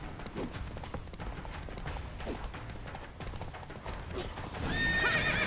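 In The Witcher 3, the horse Roach gallops with rapid, steady clip-clop hoofbeats under swelling game ambience, then gives a sharp neigh near the end.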